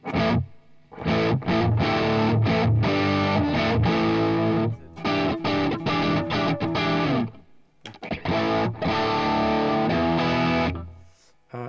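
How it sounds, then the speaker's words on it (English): Electric guitar plays chords in short rhythmic bursts with a few pauses, a fairly clean vintage tone with a touch of reverb, close and loud. "Then I have a pretty dry vintage sound, I think, and there's nothing in there except for a little bit of reverb"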